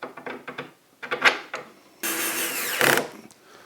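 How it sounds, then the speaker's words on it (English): Screws are driven back into an oak frame set with MDF, with short bursts of driver whir and rubbing, then a louder sustained buzz of the tool close by. "So these two screws go back in."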